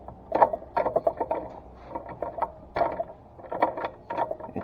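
20 millimetre socket spinning and scraping on a rounded bolt, a series of uneven metallic grinding bursts with brief catches, close and moderately loud, with no voices.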